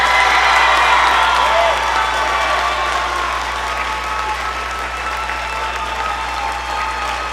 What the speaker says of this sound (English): Now clap.